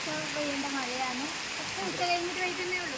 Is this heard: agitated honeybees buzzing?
no